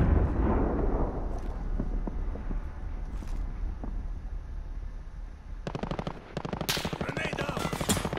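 Rapid automatic gunfire rattles in a video game, heavy and rumbling at first, then dense, crisp bursts toward the end, over game sounds.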